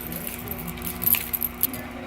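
Keys hung with keychains, including a large initial charm and Coach keychains, jangle inside a purse in a few quick metallic clinks over steady background noise.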